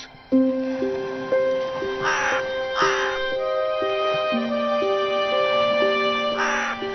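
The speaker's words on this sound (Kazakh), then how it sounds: "Қарға, сенің қанатың бар ғой." A crow cawing in a few short harsh bursts over a steady background of sustained musical tones.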